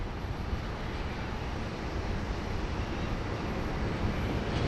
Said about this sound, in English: We've got Qantas Flight 63 heading to Johannesburg on the push right now